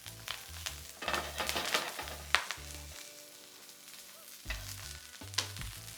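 Tenderstem broccoli goes into hot sesame oil and fries with a soft, close crackling sizzle, broken by short bursts as the stems are tossed and moved in the pan, with no talking.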